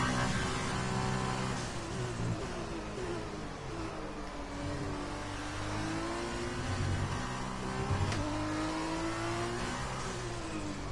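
Formula 2 race car engine running in max engine mode in F1 2020, a steady droning whine that rises and falls in pitch through gear changes and corners, loud and continuous with no talk.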